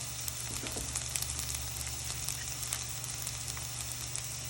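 Bamboo shoots and other ingredients sauté in a hot pan, giving a steady, fairly quiet sizzle with faint crackles and occasional soft stirring ticks throughout, with no voices.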